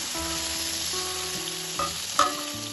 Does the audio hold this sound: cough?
no